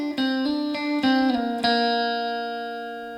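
Guitar riff in D standard tuning: several picked notes in quick succession over the first second and a half, then a final chord left ringing and slowly fading, close and clear with no talking.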